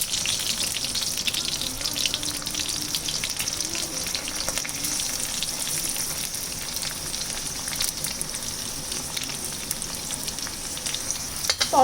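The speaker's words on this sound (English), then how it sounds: "Add some curry leaves." Green chilies and curry leaves sauté in hot oil in a pan for a Kerala Syrian Christian chicken stew, giving a loud, steady, close sizzle and crackle that continues unbroken with no talking.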